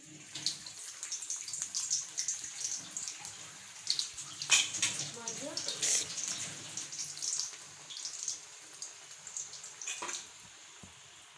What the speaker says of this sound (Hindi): ऑयल गरम हो चुका है। अब इसमें कोफ्ते ऐड करेंगे।